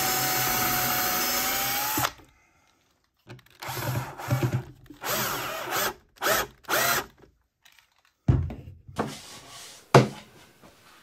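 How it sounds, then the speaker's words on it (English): A power screwdriver drives screws to fix a birch plywood shelf base to a batten in a workshop. Several short, close whirring bursts run for a few seconds each and are separated by silent gaps and small handling knocks. "a couple of Loctite screws fix the base to the batten"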